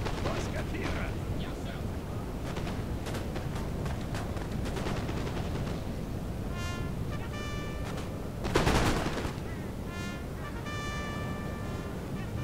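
Gunfire in a real-time strategy battle, dense crackling rifle and machine-gun bursts over a constant low rumble, with a louder blast partway through.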